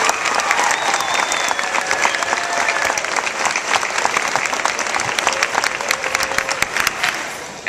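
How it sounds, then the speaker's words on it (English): Graduation ceremony crowd breaks into loud, sustained applause, a thick wash of clapping with occasional cheers and whistles, steady throughout and dropping off right at the end. "So can I get a round of applause for Tamara Johnson?"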